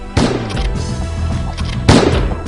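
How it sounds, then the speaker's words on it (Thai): Buckshot skill in the online game Lostsaga: two loud, close shotgun blasts about 1.7 seconds apart, each a sharp broadband bang with a short ringing tail over steady game background noise. "ควงปืนแล้วก็ยิงอัดหน้า"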